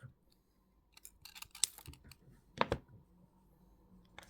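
Jewellery wire snipped while making a wire wrap ring: a few sharp, close metallic clicks and snips among faint handling taps in an otherwise quiet space, with two distinct cuts standing out near the middle.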